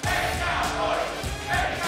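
A wrestling crowd at an FCF Wrestling event roars and shouts continuously, loud and dense, with swelling bursts of cheering; no clear talk stands out.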